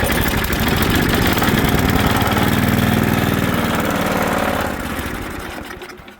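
An Ariens ST524 snowblower's small engine idles with a steady, loud, close chug, holding even for about four seconds before fading away as it shuts down.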